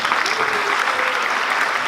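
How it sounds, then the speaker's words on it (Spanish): A church congregation bursts into applause at a service, a dense, steady wash of clapping from many hands filling the space, close and loud throughout. "Dale un aplauso al Señor"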